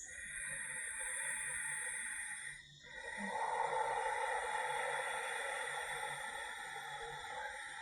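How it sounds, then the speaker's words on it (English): Ujjayi breathing in yoga, a soft, hissing throat breath drawn long and steady, with a brief pause between the inhale and exhale, close and quiet with no talk. "the sound of Ujjayi breathing, which sounds like this."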